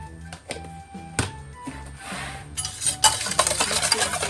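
Sesame oil and chicken powder get mixed into a marinade, heard as close clinks and taps of a spoon or chopsticks against a bowl, scattered at first and then a busier run of stirring clatter.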